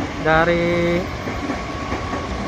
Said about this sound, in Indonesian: berpapasan dengan kereta api barang kontainer ya